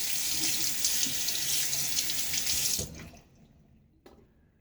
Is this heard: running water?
yes